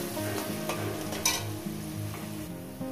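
Onions sizzle steadily in hot oil in a pan while a spoon scrapes and stirs them, with a faint tonal hum running underneath.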